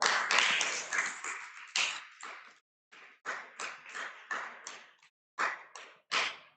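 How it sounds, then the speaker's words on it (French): A small group claps loudly at first for a gold-medal canoe-kayak athlete, then the applause breaks into short separate bursts of clapping with brief silences between them. "Est-ce qu'on peut applaudir bien fort?"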